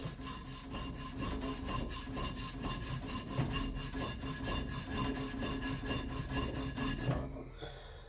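Knife blade drawn in steady repeated strokes across a sharpening stone to flatten and even the bevel of an EDC knife, a rhythmic rasping scrape of about a dozen passes, close and loud, stopping near the end.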